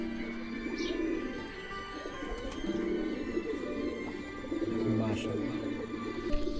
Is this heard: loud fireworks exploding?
no